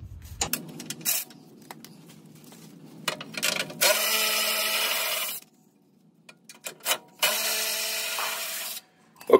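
Tool work loosening the bushing nuts on a Jeep Wrangler JK: two sustained loud bursts of grinding, whirring mechanical noise, each a second or two long, separated by quieter scraping and clicking handling sounds, with no talk.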